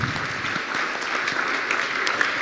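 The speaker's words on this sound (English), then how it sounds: "another round of applause for you" Sustained audience applause fills a conference hall during a cyber capacity building conference, dense steady clapping from a large crowd throughout, with no voices over it.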